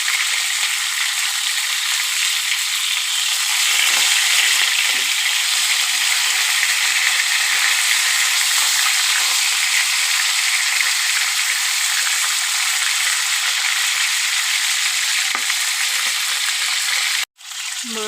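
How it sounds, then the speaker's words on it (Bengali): Tilapia fish frying in hot oil in a pan, giving a loud, continuous crackling sizzle that stays even for a long stretch, cut by a sharp clatter near the end. "প্রথমে মাছটা ভেজে নেব,"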